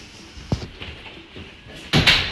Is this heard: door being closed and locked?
yes